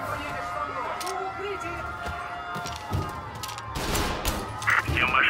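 Gunfire in the video game Mafia Definitive Edition: scattered bursts and shots crack over game noise, growing louder toward the end, with voices speaking over the action.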